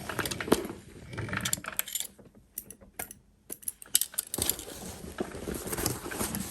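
A sewing machine stitches along the seam of a Trailblazer backpack beside the stabilizer, its quick mechanical whir running in bursts with a short pause midway, close and fairly loud with no voices.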